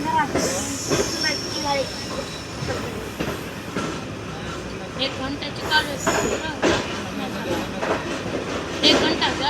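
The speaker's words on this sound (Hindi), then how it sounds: "समरसट्टा रेलवे स्टेशन हमारी ट्रेन पहुंच गई है" Zakriya Express pulling into Samasatta railway station in 45°C heat, with rumbling carriages, clattering wheels and occasional brake squeal throughout, while people talk nearby.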